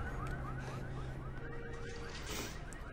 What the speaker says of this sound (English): I'm just gonna lean on this car and set off the car alarm